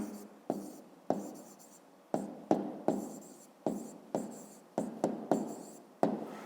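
Pen strokes on paper while writing down the answer to a 5th-grade math exercise, about a dozen short scratchy bursts in an uneven rhythm, close and fairly quiet, with no talking.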